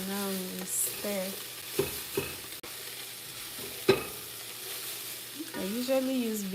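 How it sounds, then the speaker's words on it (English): Vegetable sauce being stirred in a big pot, seasoned with chicken bouillon, salt and black pepper, gives soft scraping and sloshing with a few sharper utensil knocks against the pot, joined by a low steady hum. "Now we stir."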